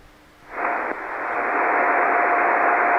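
A ham radio station keys up on an amateur net, a steady band of radio noise that swells in abruptly and holds loud and even for several seconds, with a faint thin tone running through it.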